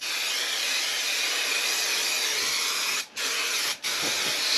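A steady, loud aerosol spray hisses continuously inside a VW Crafter van, broken by two brief pauses near the end before spraying resumes.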